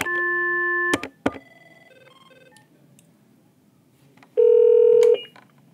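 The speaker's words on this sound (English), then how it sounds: "press either of your two intercom buttons and then dial the extension number" Push-button tones from an Avaya 1416 IP phone dialing an extension: a steady tone, a couple of short key presses, then a quiet pause and another sustained tone, clear and close with no talking.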